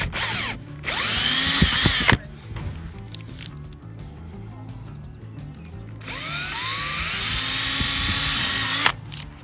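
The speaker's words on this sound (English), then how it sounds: "So I'm just going to go ahead and drill the glass first." A power drill whines in two long bursts, its pitch rising and falling as it bites into glass, with a quieter gap between runs.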